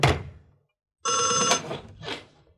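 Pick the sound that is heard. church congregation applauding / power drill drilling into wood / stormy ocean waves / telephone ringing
telephone ringing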